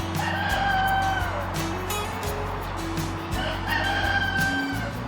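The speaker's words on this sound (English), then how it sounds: "Checking out chickens at the alpaca farm." Chickens cluck steadily nearby at an alpaca farm while a rooster crows twice over the background noise of the yard.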